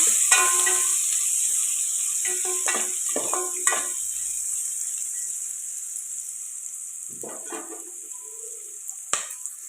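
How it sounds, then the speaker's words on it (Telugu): Onions and green chillies fry in a pan with a steady high-pitched sizzle, broken by intermittent scrapes and clinks of stirring, while the hiss slowly fades. No one speaks. "ఉల్లిపాయలు ఇలా ఫ్రై అవుతాయి కదండి"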